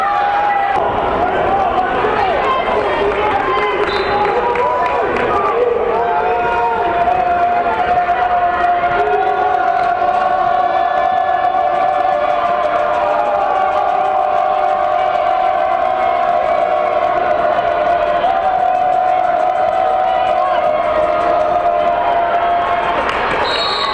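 A crowd cheering and whooping during a timeout at a high school boys' basketball game between Plattsburgh and Peru, continuous noisy gym ambience with shouts, dribbling and an announcer talking over it throughout.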